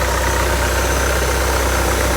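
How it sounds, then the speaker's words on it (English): A 1996-2000 Honda Integra engine idles with the air conditioning switched on, giving a loud, steady mechanical hum and vibration close to the microphone with no talk. "We start the engine and turn on the AC."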